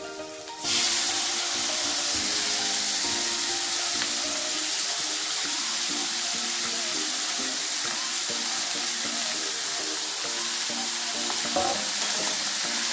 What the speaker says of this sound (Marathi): आपण कापलेली कांद्याची भाजी टाकून द्यायची